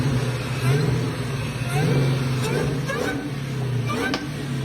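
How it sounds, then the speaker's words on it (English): A supercharged car engine revs up and down loudly with a steady high supercharger whine layered over the rumble, close by, with people talking over it. "supercharger sounds so cool"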